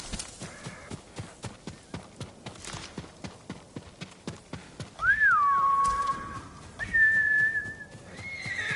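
Horse Sora from the Ghost of Tsushima video game, heard as a steady run of rhythmic hoofbeats for about five seconds, followed by loud tonal whistling and a whinny-like call.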